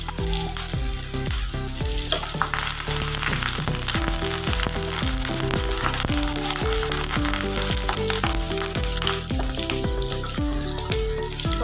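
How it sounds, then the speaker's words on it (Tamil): Onions and garlic sautéing in hot oil in a pan for a village-style sundakkai kulambu, a steady, dense sizzle and crackle with occasional stirring scrapes, loud and close with no voices. "வெங்காயத்தையும் பூண்டையும் நல்லா வதக்கிக்கலாங்க."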